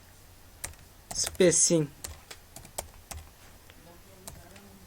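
Clicky typing on a computer keyboard during an HTML tables tutorial, scattered keystrokes and short bursts at moderate loudness, mixed with someone speaking briefly.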